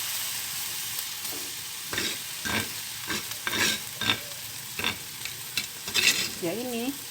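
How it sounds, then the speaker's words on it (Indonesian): Food fries crisply in a pan while seasoning is stirred in, a constant sizzle broken by repeated scraping spatula strokes, close and fairly loud, with a brief voice near the end. "Setelah digoreng sudah merasa garing, baru dimasukkan bumbunya."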